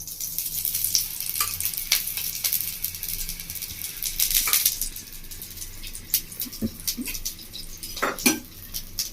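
Paratha frying in ghee on a hot pan, a soft steady sizzle under scattered clinks and scrapes of a utensil against the pan, close by and with no talk.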